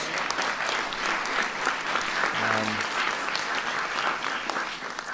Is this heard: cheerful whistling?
no